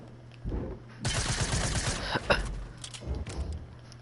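Rapid automatic fire from an SMG and a Tommy gun in a video game, a dense burst of bursts over about a second, then a few scattered shots trailing off.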